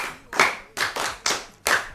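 An audience claps for a student in a brisk, uneven series of loud, close hand claps with short gaps between them.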